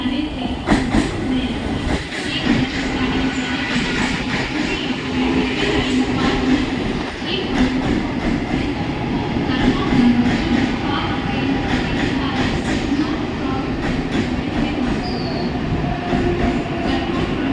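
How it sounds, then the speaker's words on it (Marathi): A fast Mumbai local train passes through platform 2 of a station, a loud, continuous roar of wheels and carriages with clattering and faint squeals throughout, and a voice faintly audible in the background. "प्लॅटफॉर्म क्रमांक 2 एक जलद गाडी जाणार आहे."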